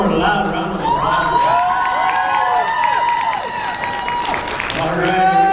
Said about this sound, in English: you can give one more loud round of applause